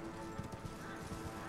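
Horse hooves clopping steadily as a rider travels on horseback through the open world of Elden Ring on PS5, a quick, even trot of soft thuds beneath ambient game sound.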